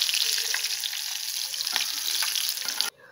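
Curry leaves sizzle and crackle in hot frying oil while chivda is being made, a bright continuous fry with small pops, ending abruptly.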